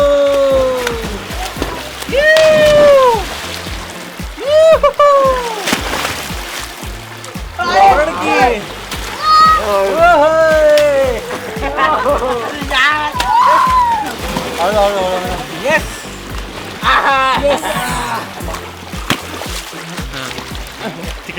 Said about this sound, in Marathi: तन्विशला पोहायला शिकवते आपल्या गावच्या कॅनलमध्ये